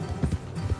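Horses' hooves clip-clopping along a road in Red Dead Redemption 2, a few quick, soft, close thuds in a short burst with no talk over them.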